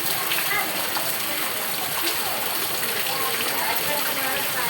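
Heavy rain pours steadily onto a flooding courtyard, a dense continuous wash of splashing water that stays loud throughout, with a voice talking over it.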